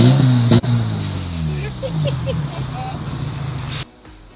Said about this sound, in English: So let's listen to a Backbox delete on a Skoda.